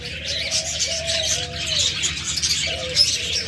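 Caged cockatiels, lovebirds, budgerigars and doves at a bird shop making a dense, continuous chorus of chirps and soft coos, close and fairly loud, with no talk.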